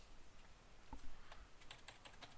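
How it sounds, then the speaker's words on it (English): Quiet typing on a computer keyboard, a short run of soft key clicks that grows busier toward the end, with no talking. "let's go ahead and type attack"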